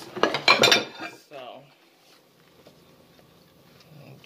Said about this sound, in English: just wash the dishes really good